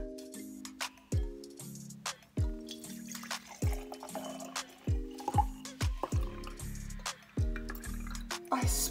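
Hot melted candle wax is poured into a mason jar, producing close, repeated liquid glugs, drips and splashes in an uneven rhythm, with no talking.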